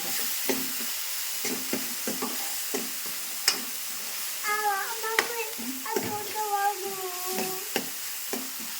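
Garam masala and spices frying in a pan for potato palya, giving a low sizzle with repeated scraping and stirring strokes, while a voice chirps briefly over the cooking.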